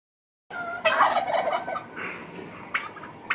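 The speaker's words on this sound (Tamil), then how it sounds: "ராணி சீச்சியோட வான்கோழிகள் ஒரு ஸ்பெஷலான சத்தத்தை கொடுக்கும்" Turkeys gobble nearby in a garden in a rapid, warbling burst, followed by quieter gobbles and a couple of short calls against faint background noise.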